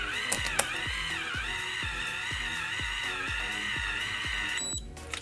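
A Magic Rod cordless hair curler emits a steady, continuous high-pitched electronic beep tone lasting several seconds before cutting off, over a faint rhythmic mechanical ticking underneath.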